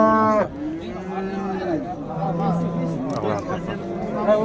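Cattle at a busy livestock bazaar low loudly several times, with long drawn-out moos rising over a constant murmur of crowd chatter and people talking nearby.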